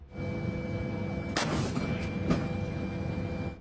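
A self-propelled howitzer fires its 155mm cannon, one loud booming blast standing out over a steady low rumble, followed by a fainter second report.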